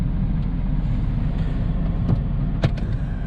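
A Smart Fortwo diesel car with an adjusted turbo and a new intake tube drives along, its engine a steady, close low rumble with a couple of brief clicks near the end.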